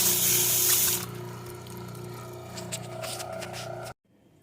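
Water rushing through an AquaJoe garden hose with a 50-foot hose attached: a loud hissing spray at first, then a softer steady flow with faint scraping, cutting off abruptly near the end.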